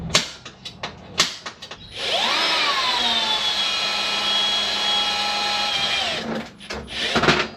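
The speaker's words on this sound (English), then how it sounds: "we'll get this thing drilled and tapped" A power drill bores a hole into an aluminum-looking part from a Honda single cam engine, preceded by a few clanks of handling before a steady whining drill run of several seconds, near and loud, with no talking.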